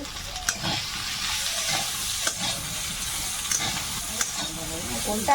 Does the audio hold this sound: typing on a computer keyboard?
no